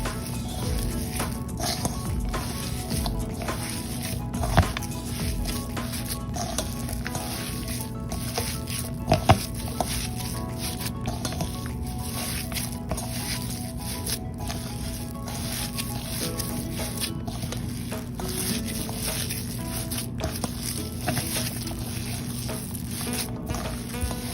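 Grated boiled plantain is mixed by hand in a bowl, making soft, continuous squishing and wet pressing sounds with a few sharper clicks, heard close up over a steady low background hum.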